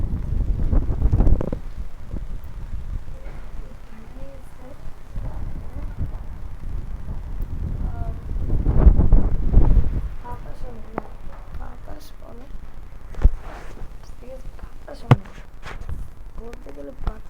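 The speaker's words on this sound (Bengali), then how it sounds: "বলতে গেলে বাতাস অনেক।" Strong wind buffets an outdoor microphone on a rainy morning, with heavy low rumbling gusts rising and falling throughout and a few sharp knocks, while a person talks intermittently underneath.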